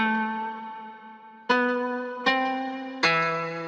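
A sampled classical guitar from Arcade plays a slow, eerie phrase of four plucked notes, each ringing out and fading before the next, clean and close with nothing else heard.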